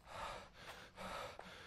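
A person pants heavily, out of breath, with close, audible rhythmic gasping breaths repeating in quick succession and no talk.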